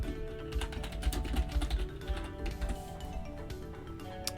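Keyboard typing during shader work in a game editor, a fairly quick run of soft clicking keystrokes at close range over a steady low background hum.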